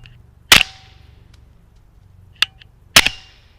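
Three sharp pistol shots from a 9mm fired dry through a Liberty Infiniti titanium multi-caliber suppressor, each a loud close crack with a short tail, the last two closer together.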